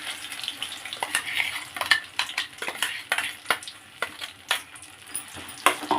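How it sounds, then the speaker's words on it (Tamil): Ground seed chutney, made with urad dal and coconut, being lightly sautéed in a pan on a low flame: a soft sizzle broken by frequent clinks and scrapes of a spoon. "சும்மா லைட்டாக வதக்கினா போதும்."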